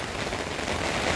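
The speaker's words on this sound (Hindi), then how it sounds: "कश्मीर में बारिश हो रही है।" Heavy rain falling in Kashmir during a thunderstorm, a dense steady wash of drops pattering on surfaces, close and continuous with no voices.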